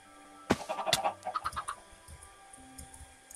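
Chickens in the Minecraft video game give a quick burst of clucks, several short close calls in a cluster, then quieter scattered clucks fading out with no talking.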